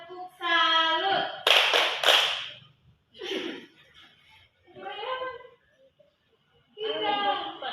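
A church youth group performs a patterned clapping cheer, bursts of rhythmic clapping and chanted voices alternating with short silences, including a sharp cluster of claps in the middle.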